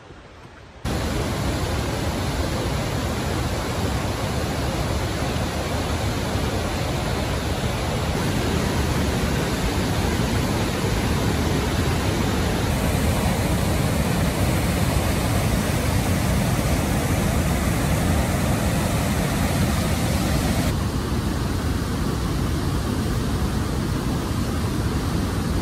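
Misty Falls on the Rae Lakes Loop in California roars as a loud, constant rushing wall of falling water heard up close, with no other sounds.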